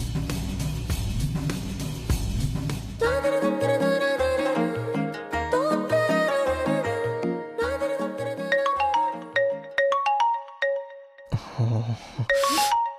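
A mobile phone plays a loud ringtone melody of bright, bell-like chimed notes in a repeating pattern. It carries on for several seconds and then stops.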